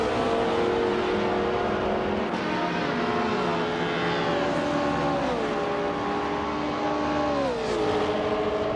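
Racing cars in a video game, including a 1966 Porsche 906, roar continuously close by, engines whining and sweeping up and down in pitch as they rev and shift through a steady race.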